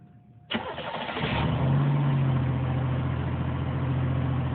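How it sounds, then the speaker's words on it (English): A 1993 Oldsmobile Cutlass Ciera S engine cranks and catches, then rises into a steady, loud idle with a brief rev, heard close and alone with no talking. "today I'm starting up a 1993 Oldsmobile Cutlass Ciera S"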